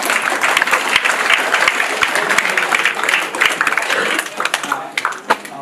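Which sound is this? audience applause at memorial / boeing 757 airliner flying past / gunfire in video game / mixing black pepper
audience applause at memorial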